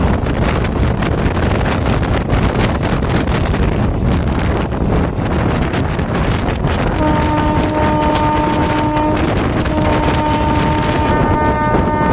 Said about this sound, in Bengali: আমাদের ট্রেন এখন কালীনারায়ণপুর বীরনগর কার্ড সেকশনে রয়েছে।